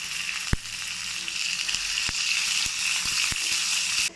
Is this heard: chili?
yes